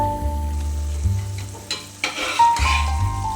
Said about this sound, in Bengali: এই যে ছোলার ডালটা দিয়ে দিচ্ছি